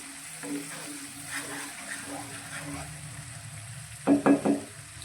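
Leftover roti snack mixture cooking in a kadai, a low steady sizzle and bubbling with a short burst of louder scraping stirring near the end.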